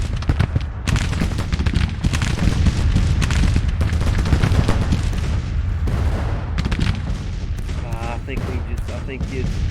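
Artillery and rifle fire in the Civil War strategy game Grand Tactician, set in 1863: a dense, continuous barrage of booms and crackling shots with speech-like voices mixed in.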